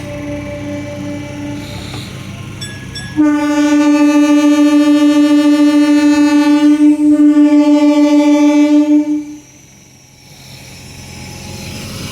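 A passenger train at Bhattiprolu railway station in the early morning sounds a loud, sustained horn for about six seconds over low rumbling, then the horn cuts off and the engine and wheel noise continue.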